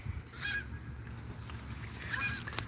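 Geese honking in a couple of short bursts, one near the start and another toward the end, over a steady low outdoor rumble with no talk.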